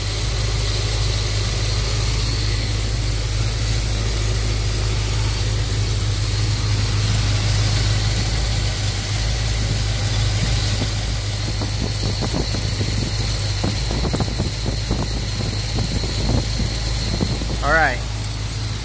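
A car engine idles steadily while its Holley carburetor's idle mixture and speed are adjusted, a loud, continuous low rumble with slight wavering, as people talk near the running engine.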